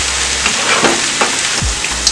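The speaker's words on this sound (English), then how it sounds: "I've added the last batch of dodo the plantain to the oil. It's cooking now" Ripe plantain slices (dodo) fry in hot oil, giving a loud, steady crackling sizzle, broken by a few stirring scrapes and soft bursts.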